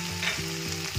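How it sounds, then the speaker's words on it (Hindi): Onion, green chilli and ginger frying in a pan over a medium flame, a short close burst of sizzling with a stirring scrape, alone without talk. "पकाएंगे जब तक हमारा प्याज जो है हल्का ब्राउन ना हो जाए"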